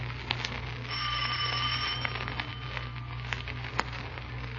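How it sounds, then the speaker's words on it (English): In a radio drama, a bell rings out several times in short metallic strikes, ringing tones lingering over a low steady hum with no voices present. "Ring the bell."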